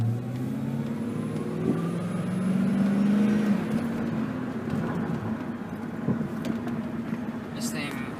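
A 1996 Ford Mustang GT with a loud modified exhaust drives along. A steady engine drone rises briefly as it accelerates, with some talk inside the car.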